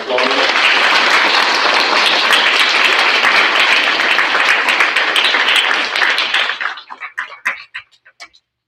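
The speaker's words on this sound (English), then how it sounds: "we can give this group of kids a round of applause" A school audience at a sixth grade awards ceremony claps loudly for a group of students, a full sustained round that thins into a few scattered last claps near the end.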